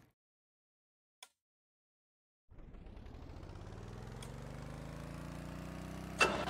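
A vehicle engine in the video game Stormworks starts up after near silence, then runs with a steady, even hum that rises slightly in pitch, moderately loud, with a brief click before it and a short burst near the end.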